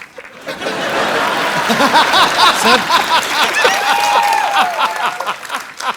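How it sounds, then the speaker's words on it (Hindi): A television studio audience applauds loudly and steadily, with scattered cheers and laughter mixed into the clapping throughout. "तो एक बार जोरदार तालियां हो जाएं"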